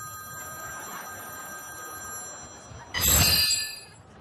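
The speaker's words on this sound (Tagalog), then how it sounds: "Divina, pakisagot nga yung telepono" An old telephone rings once, loud and bright, for about a second after a stretch of quiet room hiss with a faint tone.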